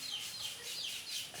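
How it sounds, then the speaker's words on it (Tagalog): Several small farm chickens cluck and chirp softly in quick, overlapping bursts, fairly faint, as if coming from a nearby coop, with no one talking. "Yung mga chickens nila."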